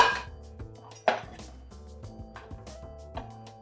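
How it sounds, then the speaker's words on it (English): A kitchen knife cuts through strawberries and achuvas on a cutting board, one firm chop standing out among a series of softer, irregular slicing taps, close and fairly quiet with no talk. "when you're cutting a bunch of things like this, is you always wanna hold the knife like this"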